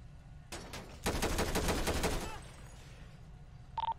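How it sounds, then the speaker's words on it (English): Rapid burst of gunfire in a police roleplay game, a couple of quick shots followed by a dense, loud volley lasting about a second, then a short electronic beep. "Shots fired. Shots fired."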